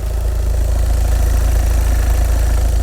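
A Volkswagen Passat 2.0 TDI diesel idles steadily and loudly up close, with a low, rough, continuous rumble and faint rhythmic diesel clatter.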